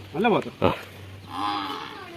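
A water buffalo moos close by: a short arched call and a quick grunt, then a longer, lower drawn-out moo.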